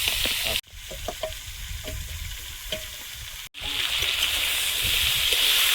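Hot oil sizzles loudly and steadily in a pan as taro stems go in with black cumin, broken by two brief cuts, with faint stirring and scraping underneath.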